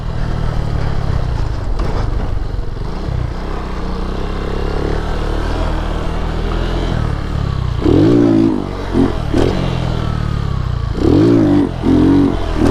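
A Lifan KP motorcycle engine drones loudly off-road through tall grass, straining and bogging with uneven revs, and a couple of brief rising throttle surges near the end, heard close from the rider's position.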